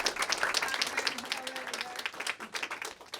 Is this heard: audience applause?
yes